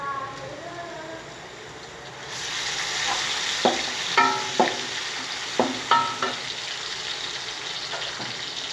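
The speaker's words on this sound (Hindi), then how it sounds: "अब हम इसमें ऐड करने वाले हैं लहसुन" Garlic fries with golden onions in hot oil, a dense sizzle that swells louder partway through, punctuated by several sharp spoon scrapes and clinks against the pot.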